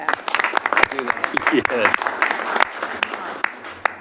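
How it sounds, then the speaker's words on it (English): Applause from the audience at a budget committee meeting, with scattered claps under and around talk in the room, while a voice speaks briefly. "They deserve a round of applause for their efforts."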